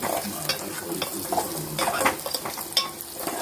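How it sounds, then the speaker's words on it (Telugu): Tempering (tadka) for gongura dal sizzles steadily in hot oil while a utensil stirs it, with close, crackling frying and scattered scraping clicks throughout and no talking. "ఇప్పుడు తిరగమాత వేస్తున్నాను"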